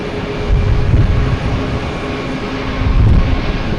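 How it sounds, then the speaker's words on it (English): Allegiant Airlines A320 jet arriving from Asheville at Boston Logan, a steady low jet-engine roar that swells slightly twice, with wind rushing over it and no talk. "Allegiant Airlines coming in from Asheville."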